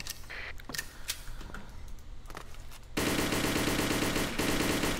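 Gunfire in the video game Operation7: scattered single shots and clicks first, then a sustained rapid burst of automatic fire that fills the rest of the moment loudly.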